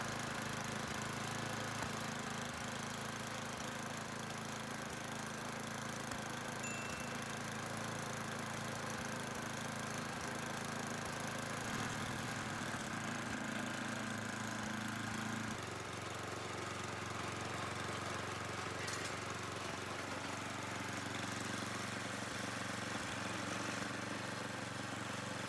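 An old Ariens snow blower runs steadily with its traction drive and auger engaged, a continuous mid-pitched engine drone that shifts tone partway through as the load changes.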